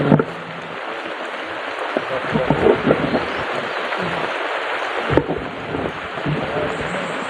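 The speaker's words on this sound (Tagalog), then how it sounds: "Medyo malakas po ang ulan." Heavy rain pours down outdoors as a continuous broadband wash with a few louder bumps, while a person talks through it.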